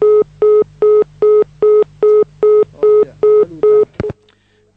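A telephone line on a radio call-in show drops: about ten evenly spaced loud electronic beeps sound in a steady rhythm, then end in a sharp click and clatter before near silence.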